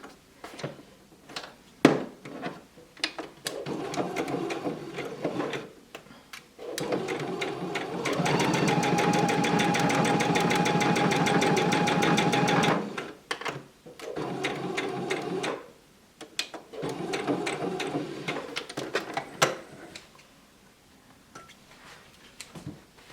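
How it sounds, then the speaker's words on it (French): A sewing machine stitches the seam of a fabric pouch in several runs, a steady fast mechanical whir that stops and restarts, with one long burst in the middle and handling clicks between. "là maintenant je couds l'autre deuxième tiers"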